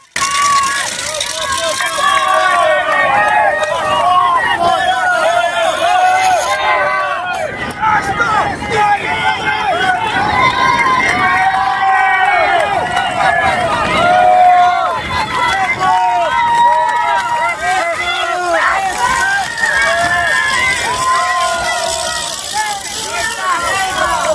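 A roadside crowd at a cycling race climb in Slovenia cheers and shouts continuously, a loud dense roar of many voices near the final 200 meters of the Pogi Challenge.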